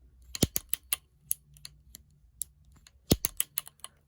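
Sharp mechanical clicks from an old Shimano 7-speed bicycle shifter, sounding in irregular bursts of close, crisp ticks with short gaps, a few louder snaps standing out among lighter clicks.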